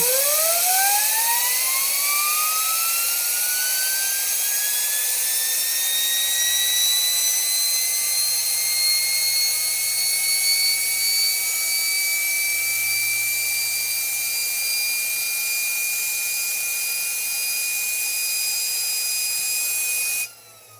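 A turbocharger rotor on a Balanset-1A balancing rig spins up, a rising whine climbing steeply in pitch and then holding a steady high shriek, loud and continuous for about twenty seconds before cutting off abruptly.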